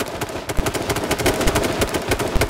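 Rapid, continuous automatic gunfire from the H1Z1 battle royale game, with dense evenly spaced shots going off close and loud for the whole stretch, without any talk.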